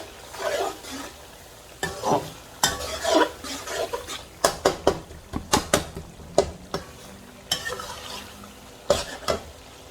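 A spoon stirs garam masala and turmeric through a chicken qorma, sending repeated sharp scrapes and knocks against the pot over a low sizzle. The strokes come in irregular bursts.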